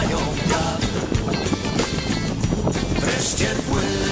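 A boat sails on the open sea near Łeba in Poland, with loud, steady wind buffeting the microphone over rushing waves and water throughout, broken only by brief gusts, and no voices.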